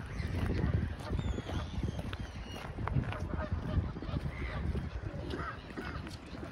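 Seagulls calling in a town centre on Christmas Day, several harsh honking cries scattered over a busy outdoor background with faint voices.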